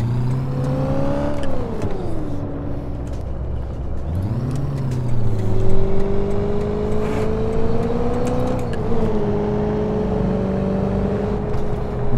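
A GMC Vandura G-1500 van engine drones while driving in the City Car Driving game, its pitch climbing and dropping with each gear change, loud and steady with no talking.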